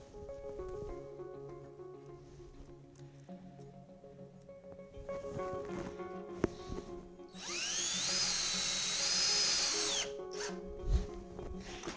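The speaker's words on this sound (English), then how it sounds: "Just screw it right in till it's snug." A power drill whirs in a short high-pitched burst, driving a screw into a wooden table to mount a screen printing press, after quieter handling sounds and a low hum.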